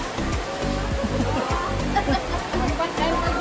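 Rushing waterfall pours steadily at a river spot where people jump in, a broad continuous roar with sloshing bursts close by, voices faintly audible under the water.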